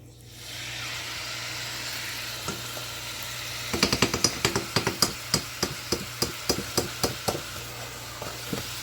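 Chicken breasts in hot avocado oil over medium-high heat, a steady close hiss that thickens partway through, with a run of sharp regular taps against the pan.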